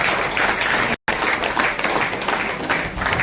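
An audience at a credit cooperative society's diamond jubilee felicitation ceremony claps loudly and steadily, a dense, continuous applause broken by a brief cutout near the start.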